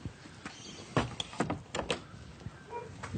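Several sharp knocks on the door of a locked house, irregular thuds and raps spread over a few seconds and heard at close range, with no talking.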